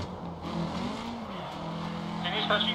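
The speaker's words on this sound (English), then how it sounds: "Hard on the brakes through this right hander." Rally car in the Dirt Rally video game braking hard into a right-hand corner on a German stage, engine note dropping with a brief tyre scrub at the end, under someone talking.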